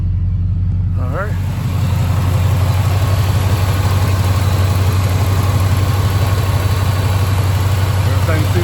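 A car engine idles after a difficult repair, giving a steady low rumble close by with a brief higher whine near the start.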